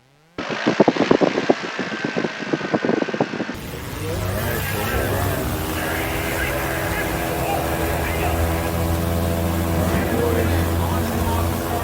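A STOL aircraft taxiing at the 2021 Reno Air Races STOL Drag event. Choppy, sputtering engine noise gives way to a steady, loud droning hum with a tonal whine, under ongoing commentary.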